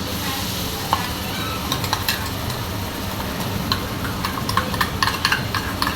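Garlic and ginger frying for a spicy chicken biryani, a continuous close sizzle with stirring and scattered metallic clinks of a utensil against the pot.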